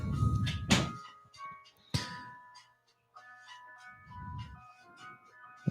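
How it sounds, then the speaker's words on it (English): A door closes with a solid thunk indoors, a sharp impact followed by a quieter second knock, with faint background noise and a soft tonal hum continuing afterward. "Close the door, please."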